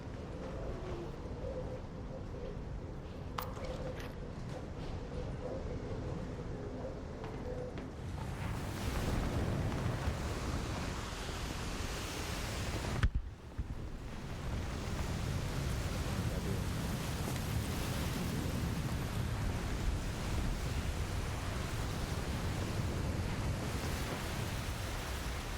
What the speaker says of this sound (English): So that storm makes it hard to hear too.